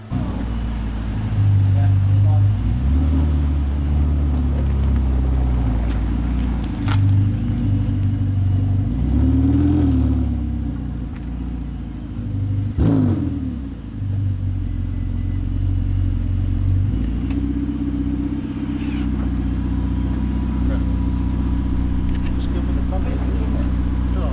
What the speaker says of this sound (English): This is the moment when Sam tries to fit this impossibly wide Pista Spider through what seem like very, very thin glass doors.